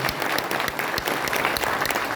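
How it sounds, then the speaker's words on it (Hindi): Enthusiastic applause from a crowd at a political gathering for local youth surveyors, a dense steady clatter of many hands clapping continuously and loudly throughout. "उसके लिए जोरदार ताली बजाओ"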